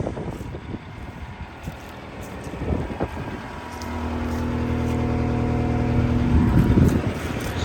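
A CAT 246D3 wheeled skid steer engine runs steadily, a close diesel drone that rises and swells toward the end, with some wind noise on the microphone.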